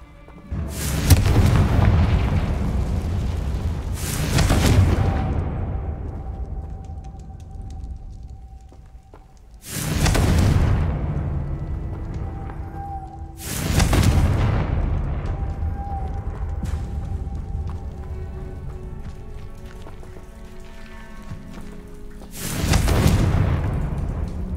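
Confringo blasting spell explosions in the Hogwarts Legacy video game: five loud, deep booms several seconds apart, each a sudden blast that trails off into a rumbling tail, with faint tones between them and no speech.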